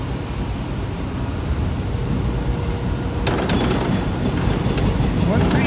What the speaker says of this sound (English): just behind it was the train I just came off of, DM30AC 512 with 518 on the rear and 7 cars